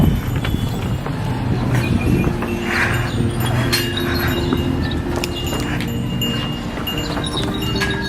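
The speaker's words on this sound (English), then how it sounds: "So many donkeys." Donkeys' hooves clop in an irregular walking rhythm on a hard surface in Santorini, with background bustle and clatter around them.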